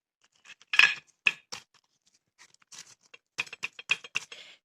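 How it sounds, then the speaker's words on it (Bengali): A crispy fried egg crunches as it is cut, giving sharp, close crackling bursts in two clusters separated by a short quiet gap, with no voices. "সাউন্ড শুনেই অবশ্যই বুঝতে পেরেছেন উপরটা কতটা ক্রিস্পি"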